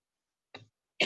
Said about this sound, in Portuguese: Está me dando um ataque de tosse, desculpe.